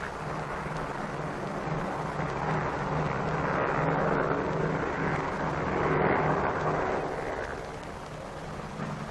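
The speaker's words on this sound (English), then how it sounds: "B-29 and C-54 photographic planes bristle with cameras of every type and description" B-29 and C-54 photographic planes crowded with cameras, their piston engines droning as they ready for takeoff at the Operation Crossroads nuclear test, a steady, heavy roar that swells and eases, with no voices.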